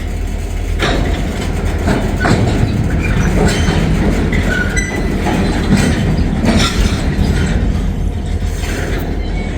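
A CSX freight train rolls past on the main line, loud and close, with continuous rumbling and rhythmic clicking and clanking of wheels and cars throughout.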